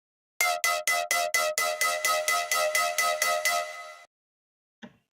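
Synth bass patch made in iOZ with stereo separation, a rapid run of about fourteen evenly spaced bright, buzzy stabs that fade slightly before stopping, then a single faint short blip after a pause; no talking.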